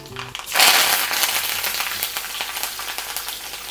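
Mustard seeds spluttering in hot coconut oil, a dense burst of crackling and popping that starts suddenly and keeps going close and loud, with no voices.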